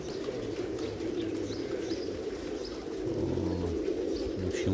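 A loft full of pigeons, including double-crested birds, fills the air with a steady, dense drone of overlapping coos, close and continuous, with no clear wing flaps.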